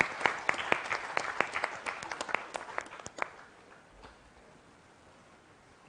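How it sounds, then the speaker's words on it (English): Scattered applause from a convention audience at an award presentation, distinct individual claps over about three seconds that thin out and stop, leaving quiet room tone. "Can we have a huge round of applause for her?"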